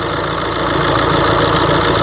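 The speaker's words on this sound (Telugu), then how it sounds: "ఇంజన్ యొక్క నాయిస్ పర్ఫెక్ట్గా అయితే ఉంది చూడొచ్చు" A 2018 Tata Hexa XE engine idling, a loud, steady, close-up drone with an even low rumble and no speech over it.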